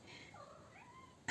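A pet cat gives a single drawn-out meow that rises and falls, close by and fairly soft, with no one talking over it.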